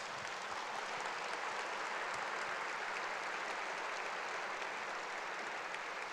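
A church congregation applauds during a Sunday sermon, a steady, dense wash of many hands clapping that holds evenly for about six seconds with no voices over it.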